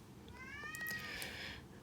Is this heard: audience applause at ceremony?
no